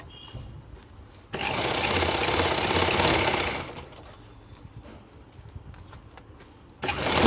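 A sewing machine stitching a blouse lining, running in a steady loud whir for a couple of seconds, falling quiet with faint handling noises, then starting up again at the end.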